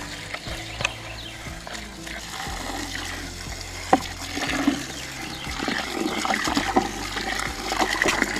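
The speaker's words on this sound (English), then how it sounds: "we're gonna wash these carrots up." Running water rinsing freshly harvested overwintered carrots, a steady close splashing and trickle with intermittent clunks and rubbing of the roots being handled.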